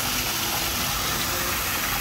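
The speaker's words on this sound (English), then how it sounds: "There's also this cool waterfall here" A waterfall beside a path in a Phnom Penh park gushes as a steady, dense rush of falling water, close and continuous with no talking.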